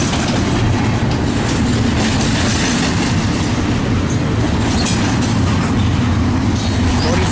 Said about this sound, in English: Tell me the grain train's done fueling already.